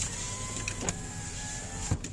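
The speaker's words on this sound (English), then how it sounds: "Windows go up and down." Power windows on a 2001 Dodge Ram SLT whir steadily as they travel, sounding faint and close inside the cab, with a soft thunk when a window stops near the end.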